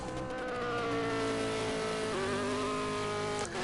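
A race car engine in a racing video game at Spa screams at high revs, loud and continuous, with a sudden drop in pitch as it shifts gear and another quick dip near the end.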